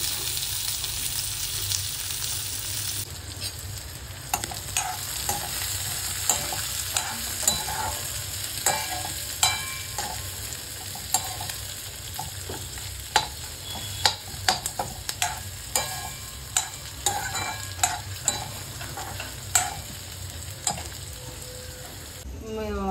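Ingredients for patodya dry-roasting in a pan, with steady stirring and scraping and sharp spatula clicks against the metal over a low continuous crackle, close and fairly loud throughout.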